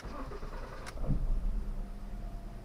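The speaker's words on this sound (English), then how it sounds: "So when we start the car," A car engine cranks briefly, catches, and settles into a steady low idle rumble.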